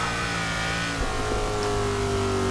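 A Hot Wheels Mustang in the racing game Forza Motorsport 6 revs hard and continuously, a loud, aggressive engine note with steady harmonics that rise and fall slightly, with no voices over it.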